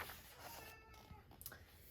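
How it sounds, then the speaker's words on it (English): A domestic cat meows indoors, making a brief, faint call or two against quiet room background, with no talking. "And hi Star, my cat's talking to me."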